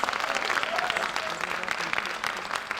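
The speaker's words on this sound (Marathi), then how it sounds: "रोनकसाठी आणखी एकदा टाळ्या होऊ द्या" Applause from a live audience for a performer at a cultural stage event, a dense, even roar of many hands clapping together at steady volume throughout, with no break and no talk over it.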